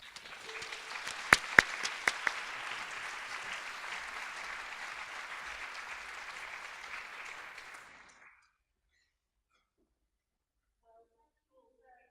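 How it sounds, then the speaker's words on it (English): An audience at a design lecture gives a warm round of applause to welcome the speaker, a steady roomful of clapping with a few sharp nearby claps, lasting about eight seconds before stopping into silence. "That was nearly as big a round of applause as the plan to legalize marijuana"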